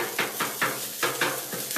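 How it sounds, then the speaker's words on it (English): Rice frying in a pan on a backyard cook, sizzling steadily while being stirred, with rhythmic scraping strokes about every fifth of a second, close up and without voices. "So I got the rice on. Got it all broke up."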